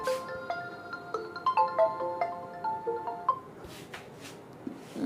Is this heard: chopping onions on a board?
no